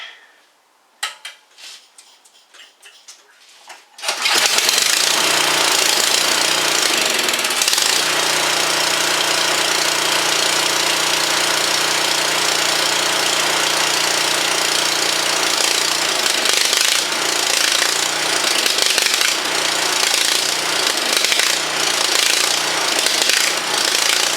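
A snow blower's small engine, with a freshly cleaned carburetor, sputters briefly and then roars into a loud, steady, rattling run that continues at full volume, heard close.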